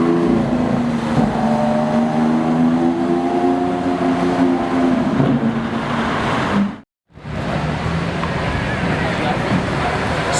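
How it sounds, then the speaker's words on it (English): Engine of a DMC-tuned Lamborghini Aventador revs with a loud, rising and falling roar, heard close with wind noise; voices talk over it, and the sound cuts out briefly near the end before returning. "The DMC Aventador is back."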